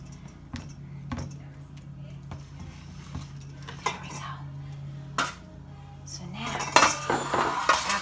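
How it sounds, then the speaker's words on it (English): Watermelon with a water and sugar mix stirred with metal utensils in a dish, scattered clinks and scrapes over a low hum, busier clattering near the end. "And we're going to stir this up."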